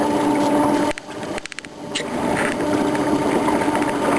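A beta-version electric paddle motor runs on a boat, a steady whirring hum with watery churning that briefly drops out and sputters when the unit dips deeper into the water, then resumes.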